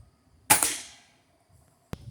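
A Gamo Whisper Fusion Mach 1 .22 air rifle fires a pointed pellet into 1/4-inch plywood, making one sharp, loud crack that rings off over about half a second. A short click follows after a pause, with no talking.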